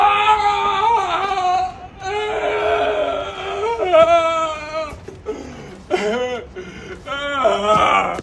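A comedic crying sound effect plays: loud, wavering wails and sobs in several bursts with brief pauses between them, close and prominent.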